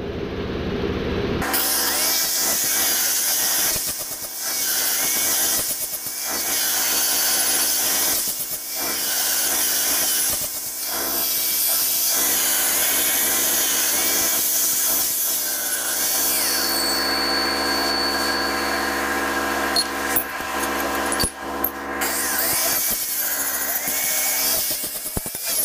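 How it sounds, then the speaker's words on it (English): A power tool grinds on metal pieces, deburring edges and stripping paint, a loud continuous rasping whine that dips briefly at intervals as the tool is repositioned. "Deburr up our edges on these two pieces as well, and get a little bit of the paint off as well."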